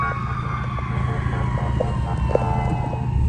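An ambulance siren wails through heavy city traffic, heard from a motorcycle. The tonal siren stays steady and moderately loud over road noise for a few seconds.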